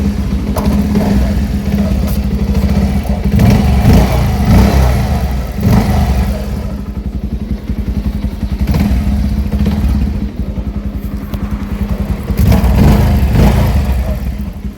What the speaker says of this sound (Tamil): இன்ஜின் ஓடிட்டுருக்க